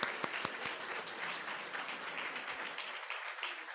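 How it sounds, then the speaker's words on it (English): Applause from the audience at a fall 2022 education pinning ceremony, with a few sharp early claps swelling into a steady, moderately distant round of clapping that tapers near the end. "let's give Leslie a round of applause"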